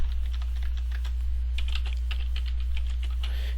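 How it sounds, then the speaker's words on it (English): A password being typed on a computer keyboard, with a steady run of light key clicks over a constant low electrical hum, close and moderately quiet. "type the invalid password."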